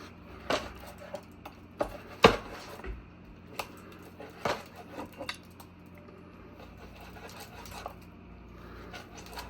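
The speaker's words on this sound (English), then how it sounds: "Take my knife and cut these up into strips, thin strips" A knife slicing cheesesteak meat into thin strips on a board at home, a few sharp clacks and scraping taps, spaced irregularly, fairly quiet with a low background hum.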